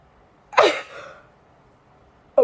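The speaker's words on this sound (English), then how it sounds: "I'm about to sneeze." A single sharp human sneeze bursts out close and loud, trailing off over about half a second, followed by quiet and the start of another abrupt sound at the end.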